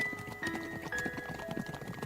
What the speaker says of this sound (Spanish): Un galope de caballo acercándose rápidamente